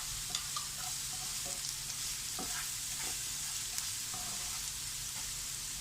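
Green chillies, ginger and garlic frying in coconut oil for a coconut fish curry, a steady close sizzle with occasional light stirring scrapes and small pops.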